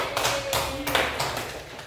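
A class of pupils claps their hands together in a burst of quick, overlapping claps, fairly close and moderately loud, lasting a couple of seconds.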